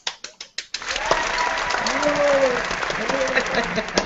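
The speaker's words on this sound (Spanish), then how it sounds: "Aquí nos damos muchos aplausos" Applause from an audience at a Spanish-language talk for Latina women: a few sharp separate claps, then dense sustained clapping that carries on steadily while a voice speaks faintly underneath.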